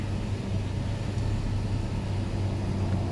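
A truck engine runs with a low, steady rumble, fairly quiet and continuous, with no talking over it.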